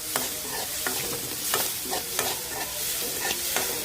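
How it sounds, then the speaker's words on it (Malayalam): A spatula stirs food frying in a pan as salt goes in, with a steady close sizzle broken by repeated scraping strokes at an uneven rhythm, no voices. "കുറച്ച് ഉപ്പ് കൊടുക്കാം. ഒന്ന് ഇളക്കി കൊടുക്കാം."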